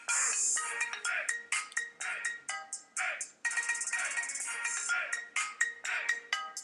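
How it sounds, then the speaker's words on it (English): A phone ringtone plays, a bright electronic melody of rapid repeated notes with rhythmic bursts and pauses, fairly close and clear, with no talk over it. "Look at my ringtone. I love my ringtone."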